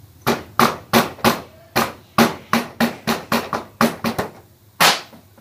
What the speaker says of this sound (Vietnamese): Lấy búa thùng đánh vào cái nồi bát càng.